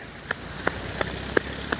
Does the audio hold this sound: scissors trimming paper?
no